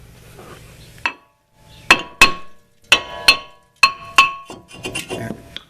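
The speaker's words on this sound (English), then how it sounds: "I'm just going to tap it with a hammer a little bit, and that might make it pop off." A hammer taps at a rusted brake rotor on a 2017 Chevy Cruze, about eight sharp metallic clinks in loose pairs with ringing decay, close and loud with quiet gaps between strikes.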